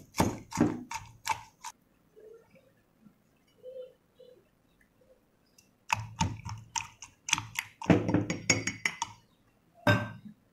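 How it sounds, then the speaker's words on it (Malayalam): Mint leaves and watermelon are crushed together for a watermelon mojito, producing close, sharp clinking taps in quick bursts, separated by a quieter pause in the middle. "ഇനി ഇവരെല്ലാം ചേർത്തിട്ട് നമുക്ക് നന്നായിട്ടൊന്ന് ചതക്കണം."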